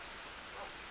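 Rain falling in the Minecraft video game: a dense, even hiss of steady rain filling the whole short moment, with no voices.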